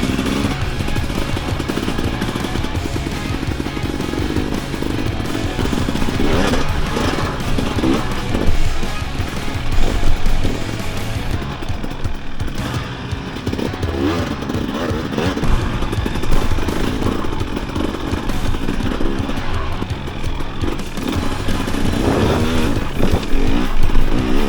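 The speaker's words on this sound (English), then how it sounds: "Vanessa, you know how to ride a bike? All you got to do is just do that. See you in a bit" A 2024 Husqvarna enduro motorcycle rides off, its engine revving and rasping loudly up close at first, then pulsing through throttle changes as it moves away, with bursts of acceleration near the end.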